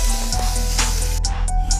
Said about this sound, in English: We have some grilled lobster on the grill